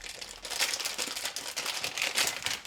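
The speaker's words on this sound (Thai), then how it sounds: "เติมนะครับฉีกพลาสติกออกนะฮะ" Plastic seal being torn off a Brother printer ink bottle, a close, continuous crinkling and rustling of thin plastic with small irregular crackles throughout.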